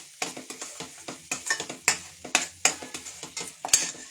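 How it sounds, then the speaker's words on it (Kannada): Masala fries in butter in a pan on a live cooking show, with a steady sizzle broken by about a dozen sharp scraping stirs at an even rhythm, close and clear with no talking. "ಈ ಮಸಾಲ ಚೆನ್ನಾಗಿ ಹುರಿದ್ಬಿಟ್ರೆ ಒಳ್ಳೆ ಟೇಸ್ಟ್ ಬರುತ್ತೆ. ಆ ಬಟರು ಎಣ್ಣೆ ಬಿಟ್ಕೊಂಡು ಬರಬೇಕು"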